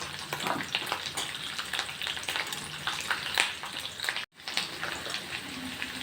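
Green chillies and curry leaves sizzle in hot oil with cumin for a moong dal: a steady, close crackling fry that runs throughout, with one brief dropout near the end.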